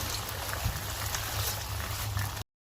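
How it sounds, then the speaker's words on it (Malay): Sweet and sour sauce poured into a hot pan while cooking siakap fish, a steady liquid bubbling and sizzling wash that runs evenly for about two and a half seconds before cutting off, no voices. "Okey, kita tuang sos kita eh"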